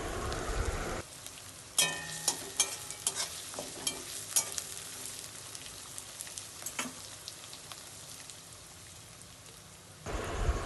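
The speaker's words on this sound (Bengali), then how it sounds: "পেঁয়াজ আমাদের ভাজা হয়ে গেছে" Sliced onions with a bay leaf fry in hot oil in a pan, a soft steady sizzle broken by scraping stirs of a spoon across the pan, with a short louder burst at the start and end.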